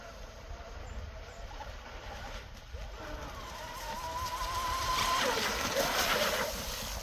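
A Proboat Blackjack 24 radio-controlled boat runs at about half throttle out on the water, its thin motor whine rising from faint to moderate and shifting pitch as it turns, with no talk.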